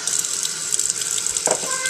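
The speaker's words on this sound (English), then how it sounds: "let's fill up two glasses of water and do a little experiment. This one here will be the regular water from the sink." Tap water runs from a kitchen sink into a drinking glass, a steady close hiss of flowing water with a brief stronger splash near the end.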